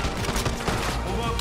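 Rapid automatic gunfire in a Call of Duty Black Ops 6 multiplayer match, heard as a dense, sharp burst of shots with booming impacts, with game voices in the background.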